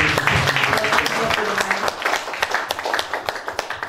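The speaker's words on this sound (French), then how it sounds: "Applaudissons." A church congregation at a bilingual French and German service breaks into applause, a full, continuous patter of many hands that thins toward the end into more distinct individual claps.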